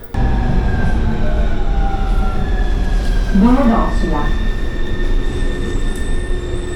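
A metro train in Italy runs with a loud, constant rumble, thin squealing tones from the wheels overhead, and a brief screech partway through.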